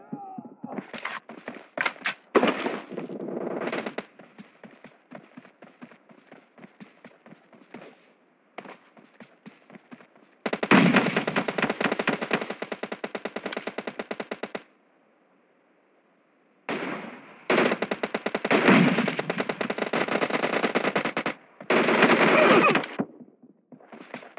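Bursts of automatic gunfire in the battle game PUBG, rapid sustained volleys that run for several seconds at a time. Quieter stretches of scattered single shots and footsteps come between the volleys, ending in more heavy firing.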